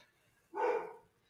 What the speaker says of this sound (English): See, even my dog agrees.